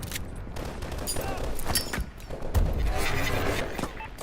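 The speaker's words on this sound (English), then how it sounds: "This grenade launcher is kind of weak." A grenade launcher fires during a Call of Duty: Advanced Warfare battle, with repeated loud blasts and gunfire bursts that peak in a dense volley in the second half.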